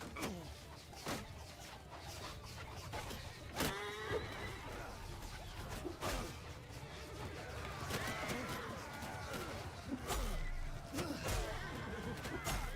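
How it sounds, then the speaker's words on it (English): Mounted cavalry charging across a Mount & Blade II: Bannerlord battlefield: horses whinny and neigh repeatedly amid a dense, constant din of battle clatter, with a few sharp impacts scattered through. "Horse charge!"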